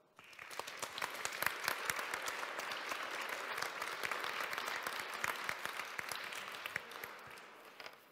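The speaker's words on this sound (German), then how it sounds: "Ich bitte um einen herzlichen, warmen Applaus für Emily Binding." Audience applause for Emily Binding at a peace conference, sustained dense clapping from a hall crowd that stays steady and fairly loud for the whole stretch, with no talking over it.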